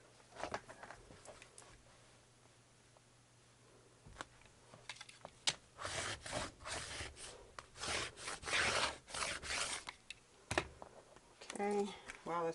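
Scissors cutting through a stretchy cotton tee shirt on a table, quiet snipping and rubbing of fabric in irregular bursts, close by, with some handling noise and a little talk near the end.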